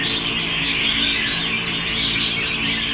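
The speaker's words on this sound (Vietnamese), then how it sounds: "chim mặt dữ, giọng gắt, giọng cũng rất là hay" A songbird sings with a harsh, loud voice in a continuous, close, bright stream of chirps and trills lasting the whole stretch, with no talk.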